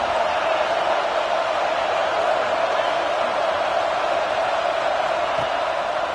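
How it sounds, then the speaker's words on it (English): A stadium crowd at a Michigan versus Notre Dame college football game makes a steady, dense roar of many voices, held at an even level throughout with no distinct cheer peaks. "Listen to the crowd energy here in the early going."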